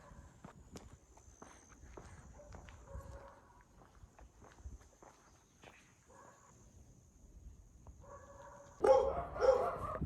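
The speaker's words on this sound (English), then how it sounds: "Hear a lot of dogs today." Footsteps crunch along outdoors in Okinawa while dogs bark in the distance, with a few louder, closer barks near the end.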